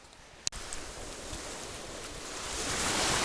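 Ocean waves break on a sandy shore, a broad surf wash that swells louder toward the end, with wind buffeting the microphone and one sharp knock near the start.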